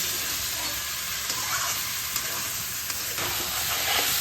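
Soaked chana dal stir-fried with spices and kochu (taro) in a pan, a dense sizzle with scraping stirs and occasional spatula knocks, close and continuous, without speech.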